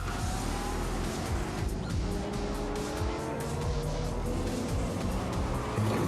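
A race car engine roars loud and continuous during a Nissan GT Academy race, revving hard with tire noise and other cars around it, no talking.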